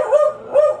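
Two short barks from a dog being readied for a bath during apartment cleaning, each a clear tonal yelp spaced about half a second apart, fairly close and loud with no talk over them.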